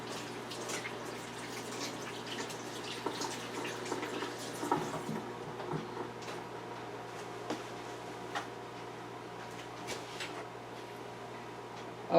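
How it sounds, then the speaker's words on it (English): Tap water runs steadily for several seconds as hands are washed at a kitchen sink, a soft continuous splashing with a few small clicks and drips, fairly quiet and with no talking. "let me wash my hands"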